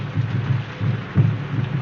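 Steady heavy rain roars throughout while low rumbles of thunder swell and fade beneath it, loud and close, with no voices.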